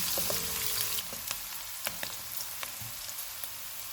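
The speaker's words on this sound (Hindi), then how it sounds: "1 प्याज डालेंगे, इसको 2 मिनट तक भूनेंगे।" Onion frying in a pan with garlic over medium heat, a close steady sizzle with a few sharp stirring clicks and scrapes, no voices.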